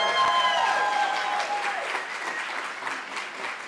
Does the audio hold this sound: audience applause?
yes